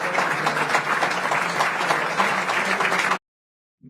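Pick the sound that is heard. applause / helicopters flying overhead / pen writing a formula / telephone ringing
applause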